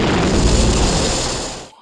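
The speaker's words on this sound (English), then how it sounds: "I love explosions." A big explosion from the 1965 James Bond film Thunderball, a loud, dense roaring boom that fills the moment and fades out abruptly after under two seconds.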